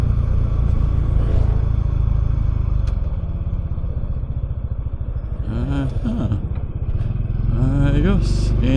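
A motorcycle engine runs steadily while being ridden, a continuous low rumble with a throbbing beat that shifts in pitch toward the end, and a voice speaks faintly underneath.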